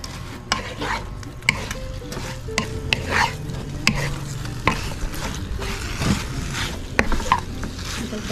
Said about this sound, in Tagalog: ipiprito natin siya sa sarili niyang mantika. Pero dapat tuloy-tuloy lang ang paghalo.